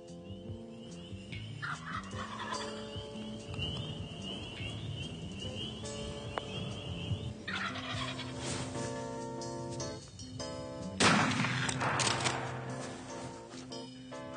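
Wild turkeys in Michigan gobbling, repeated rattling gobbles ringing out clearly, with a louder burst near the end, and no talk over them.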